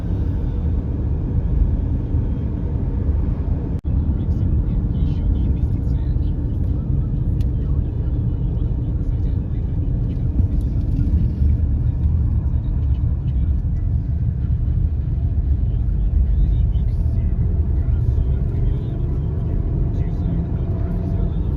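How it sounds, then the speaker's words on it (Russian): A car cruises along a highway toward Sevastopol in Crimea, its steady low road rumble and engine drone continuous and close, with people talking inside the cabin over the hum. "Все, едем дальше на Севастополь."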